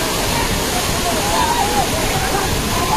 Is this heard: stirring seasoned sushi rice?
no